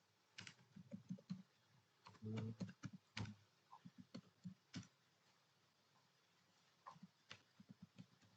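Quiet typing on a computer keyboard running Linux Lite, in irregular bursts of clicks with short pauses, one heavier thump partway through, no voices.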